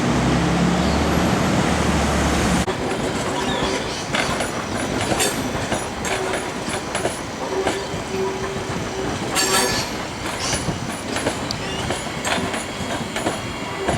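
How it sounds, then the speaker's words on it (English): Seaford line electric train pulling into Adelaide Railway Station at ground level beneath the convention centre, a steady rumble of wheels with rhythmic clicks and occasional squeals as it slows, loud and close throughout. "Seafoot line electric train pulling into the Adelaide Railway Station at ground level"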